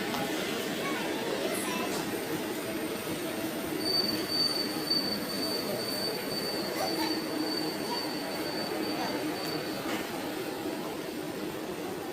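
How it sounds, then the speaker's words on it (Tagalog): Train at Vienna main station, a steady loud rumble of wheels on rails with a long high metallic squeal of wheels running through the middle, close by and continuous. "So, yun yung train na nasa kabila."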